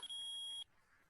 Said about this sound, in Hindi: ये बकवास रिंगटोन है